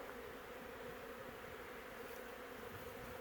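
Steady, dense buzzing of many honeybees at a hive, continuous and even throughout with no other sounds.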